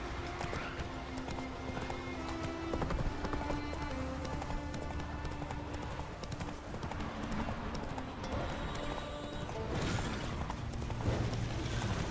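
Geralt's horse Roach in The Witcher 3 video game clip-clops at a steady gait, its hoofbeats constant and moderately close beneath game ambience and music, with a faint whinny.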